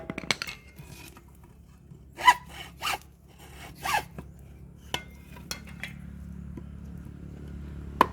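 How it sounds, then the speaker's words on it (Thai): Several short, scattered rasping hacksaw strokes cutting bamboo, with scraping and clinks between them, close up, no talking. "เลื่อยเราไม่คมหรือว่ามันเป็นอย่างนี้"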